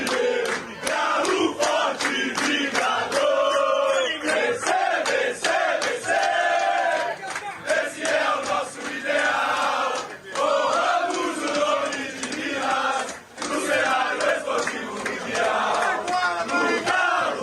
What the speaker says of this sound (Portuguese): eu tava aqui enquanto a torcida cantava lá no Rio de Janeiro